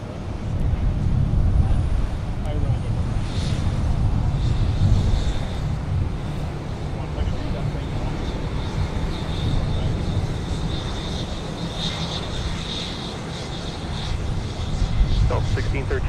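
A United airliner lands at Minneapolis–Saint Paul airport, a loud sustained jet engine roar and rumble with wind buffeting that holds steady, then eases slightly before swelling again. An air traffic control radio voice speaks over it.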